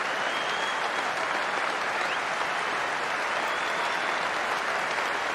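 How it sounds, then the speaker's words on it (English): Warm, sustained applause from a cricket crowd at an England v Australia Test match, greeting the England captain's fifty; a dense, steady wash of clapping that stays loud and even throughout, with no voices standing out. "Warm applause for a man who is leading England brilliantly."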